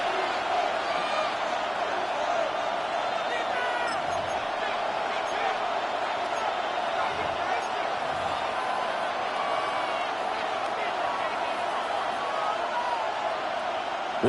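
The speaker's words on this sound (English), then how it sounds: "This Buffalo crowd letting them have it." A Buffalo crowd at a football game roars steadily in the stands, a dense, continuous wash of cheering and jeering at an even level throughout.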